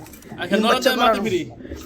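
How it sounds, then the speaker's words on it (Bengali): A pair of Bombay pigeons, an Almond male with his mate, coo softly and repeatedly at close range, their low warbling calls running under someone talking throughout. "খুবই সুন্দর এক জোড়া বোম্বাই কবুতর দেখাইতেছি"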